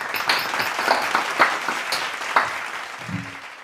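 An audience applauds to welcome a mimicry comedian on stage, a moderate burst of clapping and cheering at middle distance that tapers off over a few seconds.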